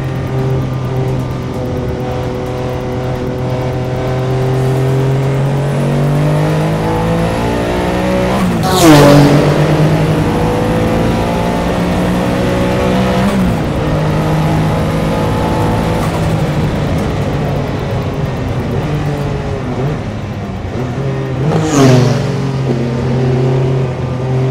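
Porsche 962 Le Mans race car engine revving loudly and steadily for about twenty-five seconds, its harmonic drone climbing and dropping through gear changes, with two sharp higher bursts of revs near the middle and the end.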